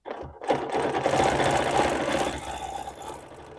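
A Bernina Q20 sit-down long arm quilting machine runs at speed while stitching circles along a nested ruler, a dense, close, continuous whir starting abruptly and easing off toward the end.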